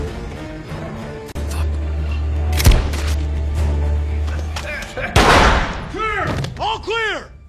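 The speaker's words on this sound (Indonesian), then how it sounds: "sayangnya salah seorang anggota mereka justru terkena tembakan di bagian matanya, dan Lisa akhirnya untungnya bisa berhasil m" Bursts of gunfire and sharp blasts crack over a dramatic soundtrack in an action film raid on an armed cartel hideout, followed by whooshing, ricocheting effects near the end.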